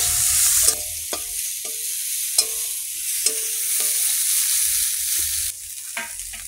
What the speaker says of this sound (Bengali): চিংড়ি মাছগুলো আর ভেজে নেবো ছোটো ছোটো কুচি।